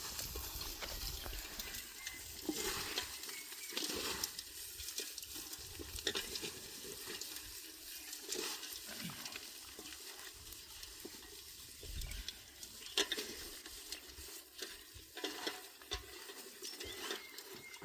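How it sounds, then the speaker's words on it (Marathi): Hands rub roasted wheat ears together to free the grains, making soft, quiet, dry rustling and crackling in repeated strokes at close range. "आपण असं चोळून चोळून त्याचे पूर्ण टरफळ वेगळे करायचे"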